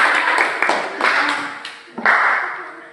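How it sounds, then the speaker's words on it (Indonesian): A classroom of students claps for a classmate in a few loose, uneven bursts of close hand claps, with a brief gap before a final burst that fades out. "tepuk tangan dong buat Reza."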